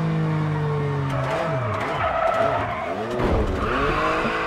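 Rally car in WRC 10 sliding through a handbrake turn, tires skidding and squealing loudly with sweeping pitch over a steady engine drone, the slide building to a harsh peak near the end.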